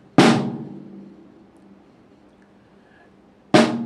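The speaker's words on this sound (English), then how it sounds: "When you're tapping on a drum, we want to make sure that we're bouncing off the drum head, not pressing into it." Two sharp snare drum taps with sticks bouncing off the head, each a crisp attack with a ringing, decaying tail, spaced about three seconds apart in a quiet room.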